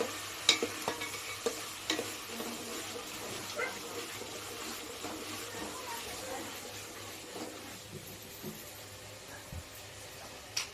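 Steady sizzling as ginger garlic paste fries golden in a pan, its water cooking off, with occasional stirring scrapes, moderately close, a faint voice now and then in the background.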